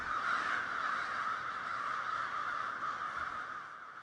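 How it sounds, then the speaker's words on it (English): Crows caw continuously at a roost, a dense, overlapping chorus of many birds calling at once, steady and fairly loud with no voices. "crows are social, their roosting behavior is similar to humans flocking to the mall or a ball game"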